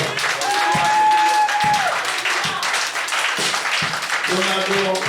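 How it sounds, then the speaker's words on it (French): A church congregation applauding and clapping continuously, loud and close, mixed with crowd noise and voices calling out over the clapping. "Acclamons Jésus."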